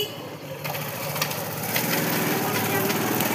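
Motorbike ride with two riders on board, a steady engine drone and rushing wind running continuously from close by, rising slightly after the first half second.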